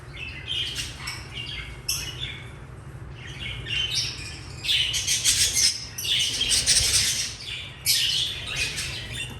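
Rainbow lorikeets in an aviary squawking and chattering continuously, several shrill calls overlapping in loud clustered bursts, with a steady low hum of background noise underneath.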